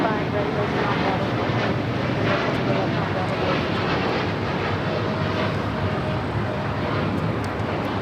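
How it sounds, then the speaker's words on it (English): A United Airlines Boeing 787-10 Dreamliner taking off at LAX, a broad, loud, steady engine roar with wind buffeting the microphone, heard from close by without a break. "923 taking off to London Heathrow on a 787-10 Dreamliner."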